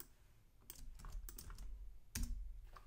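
Keys clatter on a computer keyboard in short, quiet bursts of typing, close up, with a louder cluster of keystrokes near the end and no talking.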